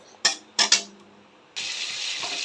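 Turmeric-fried fish head stirred with spices in a pan, with three quick metallic scrapes of a spatula, then a steady loud sizzle rising and holding to the end.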